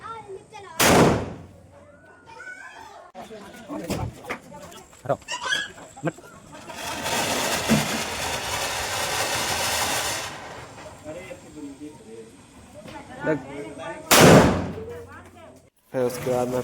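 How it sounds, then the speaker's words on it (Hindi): Diwali firecracker bombs burst in a loud, sharp crack near the start and again later, with crackling, hissing fireworks between, people chattering around them and distant bangs outdoors. "बम चलाने के लिए रेडी"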